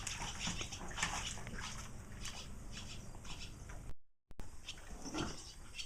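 A pig splashes in cold well water on a farm, giving a steady wet sloshing and patter throughout with a brief dropout near the end.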